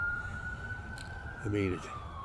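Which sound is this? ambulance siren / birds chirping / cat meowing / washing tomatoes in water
ambulance siren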